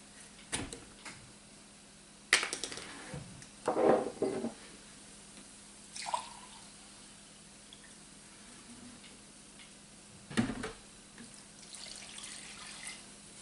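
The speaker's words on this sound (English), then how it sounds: "And then we're going to add a cup of vinegar," A cup of vinegar is poured into a pot in a home kitchen while a cooked dressing for Pennsylvania Dutch potato salad is made. The pour is a short, close splashing burst over quiet room tone, with a few faint clinks before and after.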